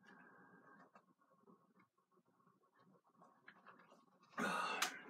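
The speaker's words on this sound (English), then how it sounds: "Clear my throat." A short throat clearing sounds up close, followed by a louder rasping burst near the end over quiet background noise.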